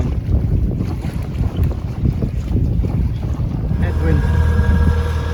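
Wind of about seven knots buffets the microphone aboard a small trailerable sailing yacht in Croatia, a steady rushing roar with water sounds from the hull mixed in.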